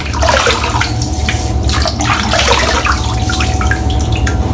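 Steady loud running water from a tap or shower wetting a head before a shave, continuous and close with no speech.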